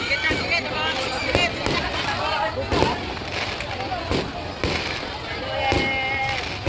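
Fireworks pop and crackle at Sky Ranch in Tagaytay on New Year's Day, the bursts fairly distant and coming in irregular thumps beneath a busy crowd's chatter and voices.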